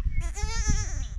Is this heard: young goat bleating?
yes